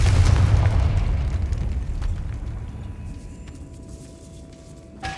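A Confringo blasting spell from the Hogwarts Legacy video game bursts with a loud, deep boom at the start, its rumble slowly decaying over several seconds while a faint sustained tone hums underneath.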